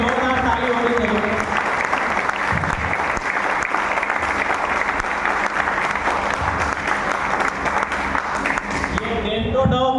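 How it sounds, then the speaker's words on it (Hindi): Loud, sustained applause from an audience at a product presentation for Dento Doc toothpaste cream, continuous clapping filling the whole stretch without a break. "इसके लिए जोरदार ताली होनी चाहिए"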